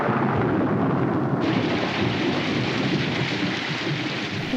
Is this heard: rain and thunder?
yes